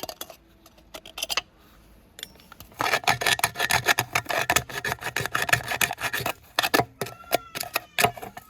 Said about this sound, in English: I'll cut off the middle section of it.